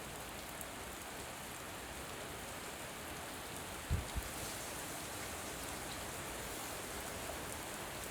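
Steady rain falls in a village, a continuous even hiss of drops on surfaces with a couple of brief low knocks midway and no talking.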